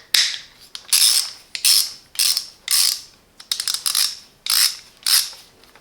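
A Parkside ratchet handle from a 95-piece tool kit gives a string of sharp, close ratcheting bursts, each a quick rattle of pawl clicks, about eight in irregular rhythm with brief pauses between.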